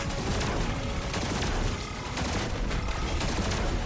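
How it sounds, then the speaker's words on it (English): Dense, sustained gunfire in the video game Destiny 2 (Lightfall postgame), a loud continuous barrage of overlapping shots and bursts aimed at the player, filling the whole moment without a break. "stop shooting me!"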